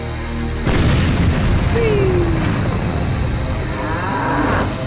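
A cow in the video game The Journeyman Project 2 moos after mortar fire, a low drawn-out bellow rising out of a sudden loud blast and its rumbling noise.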